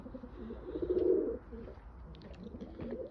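Pigeons coo inside a coop, a soft rounded coo swelling near the start among quieter murmuring calls, with faint rustling throughout and no talking.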